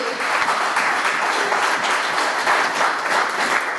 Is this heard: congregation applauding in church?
yes